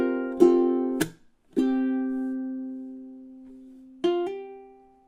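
A ukulele plays a short phrase from a song intro: a few bright plucked strums, one with a quick hammer-on, each ringing out and fading in a quiet room.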